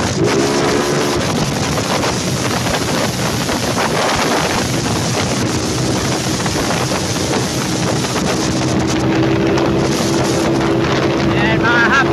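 A 193cc small engine, built with a 63 bore and 1.5 rod, runs steadily at half throttle, a continuous loud drone with wind buffeting the microphone throughout and a voice speaking over it.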